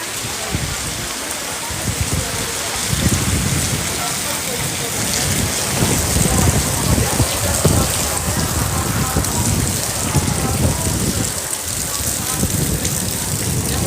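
Heavy rain pours down steadily in a dense, loud hiss with spattering drops, and a voice can be heard faintly beneath the downpour.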